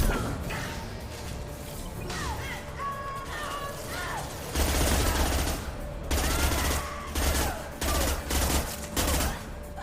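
Weapon fire in Mass Effect Legendary Edition, a rattle of shots under chirpy electronic effects, then several loud, close automatic bursts with short gaps between them.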